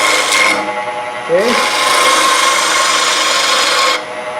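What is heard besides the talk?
woodturning cut with a gouge on a lathe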